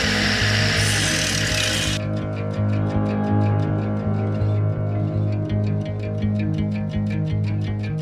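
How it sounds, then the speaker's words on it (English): A thin cutoff wheel on a power tool cuts an opening while installing a stereo in a 1967 Ford Mustang, a loud continuous grinding whine with pulsing tones, alone throughout. "we got our nice little, you know, thin disc cutoff wheel here. And we're gonna make some cuts."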